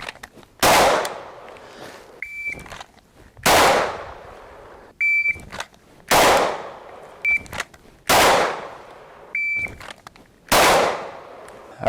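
Handgun shots fired at a 7-yard target after drawing from concealment: five sharp, loud, echoing reports spaced about two seconds apart, each preceded by a short electronic shot-timer beep.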